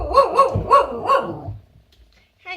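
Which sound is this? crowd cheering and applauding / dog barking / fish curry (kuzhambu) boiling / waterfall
dog barking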